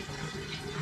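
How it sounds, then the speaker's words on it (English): Spring water poured steadily into a container holding alcohol for an Air Still Pro distilling setup, a continuous close, soft trickling stream. "So I'm going to add 2 litres of spring water into this to begin"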